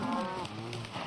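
A cow mooing in the Minecraft video game, a single drawn-out low moo that is close and clear, fading after a moment.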